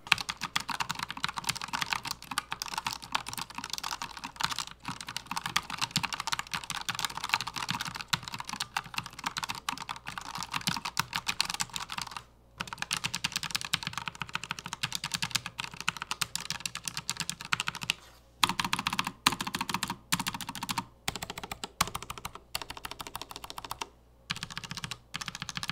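Continuous rapid typing on a Redragon K618 Horus low-profile mechanical keyboard, recorded close to the microphone, with dense clacking keystrokes and a few brief pauses, no talking.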